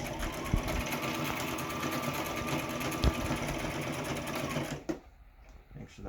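A sewing machine runs in a fast, even whir while stitching and back-stitching a narrow seam on a fabric face mask, then stops abruptly near the end, leaving quiet room noise.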